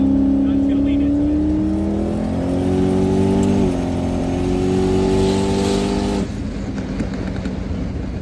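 A 1400hp turbo Corvette with a TH400 transmission pulls hard on the street after a downshift, its loud engine note climbing steadily under full throttle, then easing off near the end, with someone talking over it.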